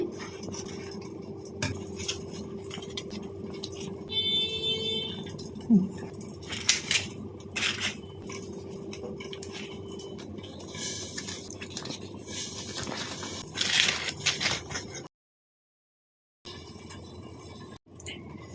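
A baked banana leaf parcel of katla fish paturi is peeled open by hand, giving soft crinkling, squishy rustles and light utensil clinks, with a brief silent gap near the end.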